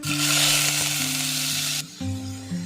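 Onions sizzle and crackle steadily in hot oil, close up, with a brief stir that quiets the frying before it picks up again.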